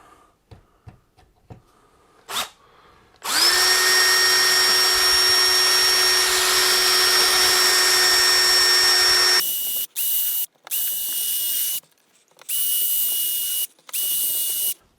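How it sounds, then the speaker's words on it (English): A power drill runs in one long steady whine, then in several short bursts with brief pauses between, close and loud, after a few faint clicks. "let's go ahead and drill these 4 holes first."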